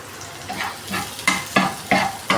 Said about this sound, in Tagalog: Then, sinunod na po natin ng bawang.